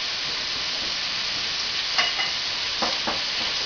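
Cream of mushroom soup being thoroughly stirred and blended into a clam chowder mixture in a pan, a steady wet scraping and swishing with a faint sizzle beneath and a few brief louder scrapes.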